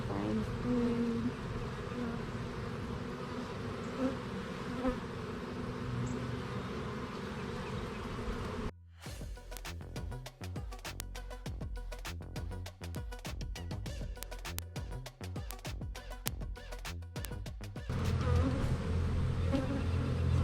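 Honey bees buzz during a beehive inspection, a dense, steady, close swarm drone that holds throughout, with a stretch of rapid crackling handling noise in the middle.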